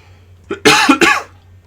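Two or three harsh, close coughs in quick succession, loud against an otherwise quiet background.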